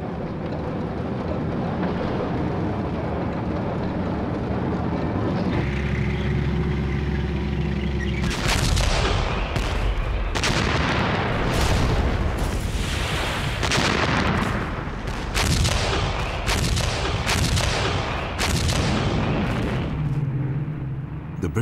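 Heavy WW2 battle fire as German guns cut into British paratroop reinforcements near Arnhem: a steady rumble, then repeated loud booming blasts and gunfire bursts in irregular succession for about fifteen seconds, no voices.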